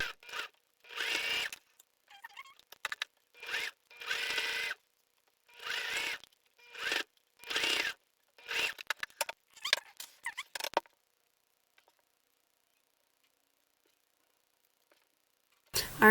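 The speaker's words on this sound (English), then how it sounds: "do the basting stitch on each side of each mask" A sewing machine runs a basting stitch along the edge of face mask fabric, in about a dozen short motor bursts separated by brief pauses, then falls quiet for several seconds.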